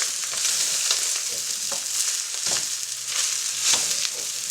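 Basmati rice stirred into meat in a frying pan, a steady sizzle with soft scraping strokes of the spoon repeating every second or so, close and without talk.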